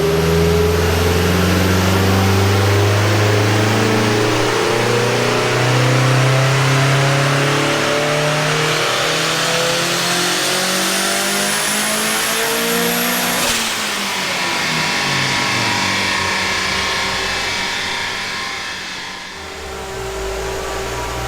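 A turbocharged 1.8T 20v engine in a Mk2 GTI with a T70 turbo revs hard on a dyno, rising steadily in pitch to a peak before dropping back down, loud and continuous with no talk.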